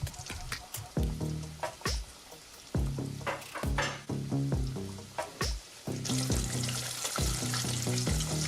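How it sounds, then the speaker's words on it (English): A pork chop fries in a pan of hot grease, giving a steady, loud crackling sizzle with sharp pops and spatters throughout, and it grows brighter and denser toward the end. "Look at it frying."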